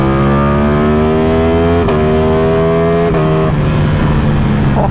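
Lamborghini Streetfighter motorcycle with a titanium exhaust accelerating hard through rising gears, the engine note climbing in sweeps with sharp pops on each upshift, loud and close with no voices.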